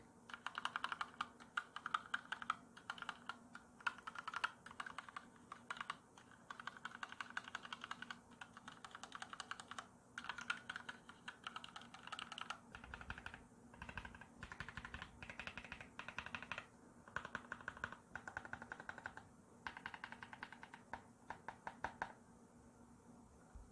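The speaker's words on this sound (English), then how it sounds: "these pink Flamingo switches sound very similar in key profile and key travel distance to black switches" Rapid, steady clacking of pink Flamingo mechanical switches on an EPOMAKER EK21 number pad being typed on, close up and continuous, with brief pauses between bursts of keystrokes.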